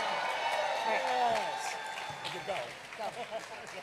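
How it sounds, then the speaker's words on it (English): Crowd applause and cheering for Mayor de Blasio at a Stonewall 50th anniversary rally, steady clapping under a person speaking over a microphone, fading as the talk continues. "Another round of applause for our mayor"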